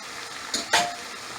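Tongs stir tomato paste into brown stew pork in a hot pot, producing two quick clinks and scrapes against the pan over a soft background sizzle, brief and close, with no voices.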